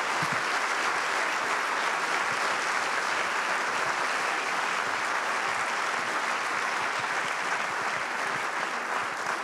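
Audience at a Strasbourg forum applauding the volunteers and organizing team, a dense, steady wash of clapping that stays loud and even from start to finish with no voices rising above it.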